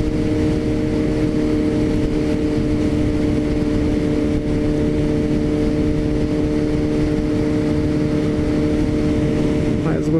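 A Suzuki GSX-S750A motorcycle cruising on a ride to Holambra, its engine a steady, continuous drone with wind rumble throughout, loud and close, with someone talking over it at times.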